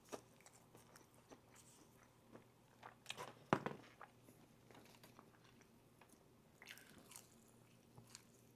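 Close, quiet bites and wet chewing of Raising Cane's chicken tenders, with soft crunches and squishy mouth sounds scattered irregularly, loudest around the middle, with no talking.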